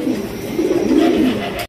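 Lahori pigeons coo close up in a short, loud burst of throaty, rolling calls with no voices.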